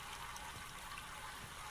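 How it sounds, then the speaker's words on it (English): Water flows steadily through channels in the game Myst, a continuous, fairly loud rushing wash with no breaks and no voices. "now the water is flowing"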